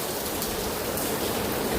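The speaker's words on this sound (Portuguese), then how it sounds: "Vai desabar chuva." Steady rain falling and pattering on surfaces, a dense, even hiss that holds constant throughout the short stretch with no voices.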